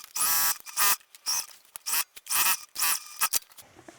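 A sewing machine stitches the sides of a denim purse in short, loud mechanical bursts, each about half a second long, with brief pauses between runs.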